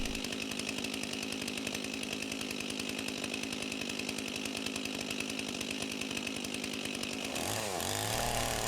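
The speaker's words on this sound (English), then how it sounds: "starting the chainsaw and letting it warm up while I put on my safety gear" A chainsaw idles after starting and warms up, a steady, close, loud rattling engine drone with a quick rev near the end. It will cut a red maple log with a 20-inch bar.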